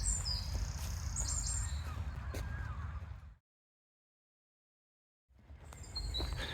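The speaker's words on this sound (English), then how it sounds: "Birds singing." Birds call and chirp in a spring woodland with bluebells, several bright whistles and a crow-like caw at moderate distance over quiet outdoor air, broken by a couple of seconds of silence.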